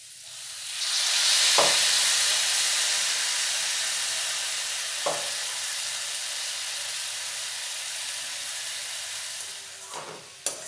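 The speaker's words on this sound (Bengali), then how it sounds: "চাউমিনটা একটু ভালো করে নাড়াচাড়া করে নেব।" Chicken chowmein noodles and vegetables sizzle and hiss steadily while being stir-fried in a pan, with a few sharp utensil clinks against the pan spaced across the continuous frying sound.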